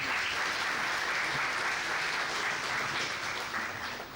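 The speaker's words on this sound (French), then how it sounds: "on mérite vos applaudissements" Audience applause at a FEST#2 event, a steady, dense roar of many hands clapping at moderate loudness, sustained throughout and easing slightly at the end.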